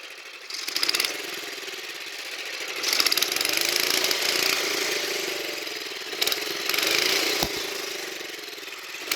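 A 1971 Toro 7/26 snowblower engine idles roughly nearby, its steady mechanical drone surging louder and falling back in uneven pulses, with no talk.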